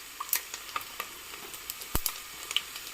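Peanuts, mustard seeds and cumin crackle in hot oil while poha is being prepared, giving sparse, faint popping and a soft sizzle, with a few sharper pops and no voices.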